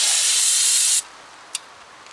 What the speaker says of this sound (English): Take brake cleaner, spray it on the cloth.